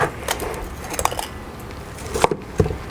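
A knife cuts into racks of smoked barbecue ribs on a board, giving a few soft, close taps and muffled squishy slices spaced irregularly, with no one talking.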